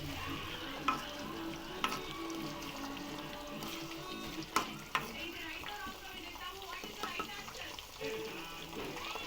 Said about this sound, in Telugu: చూడండి, లో ఫ్లేమ్లో పెట్టుకొని ఎంత బాగా మగ్గుతుందో